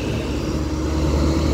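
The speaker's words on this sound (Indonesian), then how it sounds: "Kemudian masuk bus Dieng Indah Albakoro." A Dieng Indah Albakoro bus pulls in with a steady, close, low engine rumble that holds even and unbroken throughout, with no talk.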